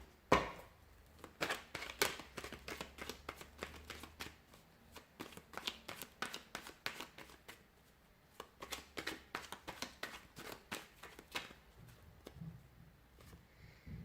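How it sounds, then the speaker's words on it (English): Tarot cards being shuffled by hand, close and quiet, in a rapid series of riffles and taps that come in short bursts with brief pauses between them, with no talking. "So we'll give the cards a shuffle and we'll begin."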